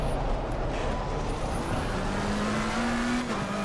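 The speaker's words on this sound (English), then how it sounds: "McLaren, very loud." A McLaren 720S race car in the racing game Assetto Corsa Competizione at Spa, with a loud continuous engine drone that rises steadily in pitch as it accelerates and includes faint tire noise.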